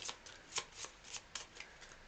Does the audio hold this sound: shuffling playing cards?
yes